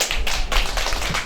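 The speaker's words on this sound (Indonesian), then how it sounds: "Tepuk tangan dulu buat beliau" Applause from a cooperative's annual members' meeting audience, a steady wash of many hands clapping together, loud and close, with no voices over it.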